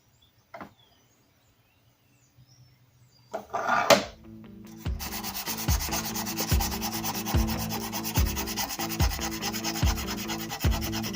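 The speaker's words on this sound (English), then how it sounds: "so sanding by hand" A vintage Plumb hatchet is sanded by hand, a steady rhythmic scraping of strokes that starts after a quiet stretch with a few knocks, close and fairly loud.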